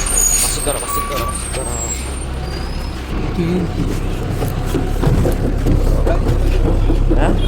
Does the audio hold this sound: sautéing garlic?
no